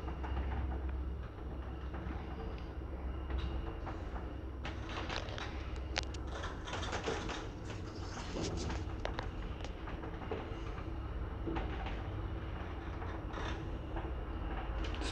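ZREMB residential elevator in an apartment block moving between floors, a steady low rumble with rattling, clicking cab and cable noises throughout, close and continuous, no voices heard.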